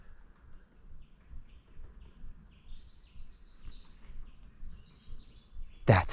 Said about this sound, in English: That is wren's song.